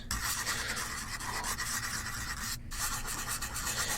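Continuous rough rubbing and rasping of sandpaper worked back and forth over whittled wood, with a brief pause near the end.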